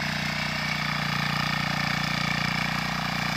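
A Trâu Vàng 2020 diesel tiller works an abandoned, long-unploughed rice field, its engine chugging in a steady, loud, even drone close by, with no voices.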